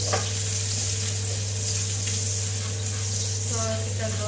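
Onions sizzle steadily in a frying pan, a loud continuous hiss filling the whole stretch, with a faint stir or scrape near the end.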